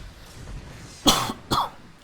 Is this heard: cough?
yes